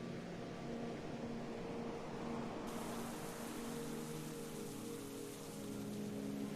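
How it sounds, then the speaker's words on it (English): Steady rain falling in a VRChat virtual world, a continuous even hiss of drops on surfaces with no visible pauses, moderately quiet and heard alone without talk. "rain sounds, but I don't see the rain"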